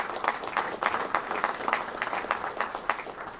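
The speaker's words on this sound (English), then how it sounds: "how about a round of applause for these great leaders" An audience claps steadily for community leaders at a gate-opening ceremony at Redstone Arsenal, a dense, even patter of many hands sustained throughout, moderately loud and close.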